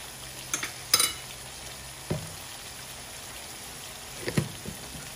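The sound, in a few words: stirring shrimp in coconut milk with squash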